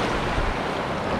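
Ocean surf at a Miami beach, a loud, close, steady broadband wash of waves mixed with wind buffeting the microphone.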